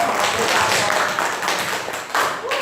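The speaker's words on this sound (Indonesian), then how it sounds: "Tepuk tangan untuk kelompok" Students in a classroom clap for a presentation group, a continuous patter of hands under a teacher's voice.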